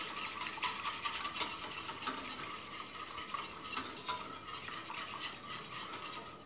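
Diet pudding sweetened with molasses being stirred quickly in a pot, a steady brisk scraping and swishing of a spoon against metal, continuous and close, with no talking.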